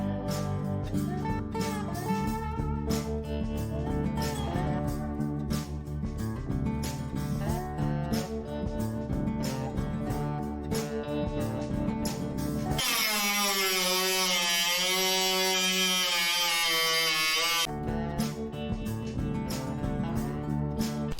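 A power tool cuts out rusty metal during a welding repair. It gives a high, whining, harmonic cutting sound for several seconds, set between stretches of steady rhythmic background music.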